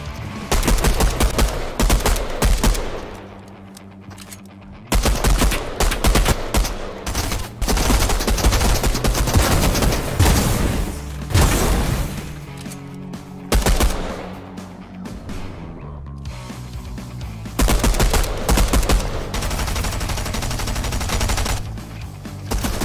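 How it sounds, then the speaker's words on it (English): Gunfire in Fortnite Chapter 3, loud rapid bursts of automatic shots in long sustained volleys broken by brief pauses, close and dominant throughout. "You're gonna start shooting again!"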